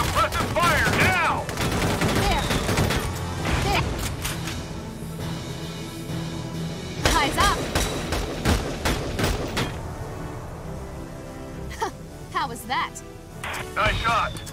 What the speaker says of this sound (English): We need suppressive fire now!